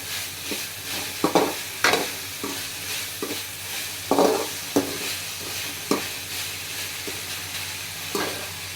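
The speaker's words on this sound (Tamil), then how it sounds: "இப்போ எல்லாத்தையும் ஒன்றா நம்ம வதக்க போகிறோம்" Onion, tomato and idli pieces sautéing together in a pan, with a steady soft sizzle and repeated scraping stirs of a spoon every second or so.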